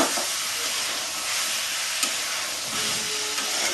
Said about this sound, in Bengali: মাংস কষা মানেই কষা, যত কষবেন তত ভালো লাগবে